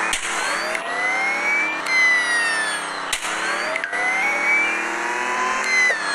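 Stolen car in the video game Dude Theft Wars pulling away, a steady loud engine drone that revs up and shifts pitch several times across six seconds, with occasional sharp clicks and bumps.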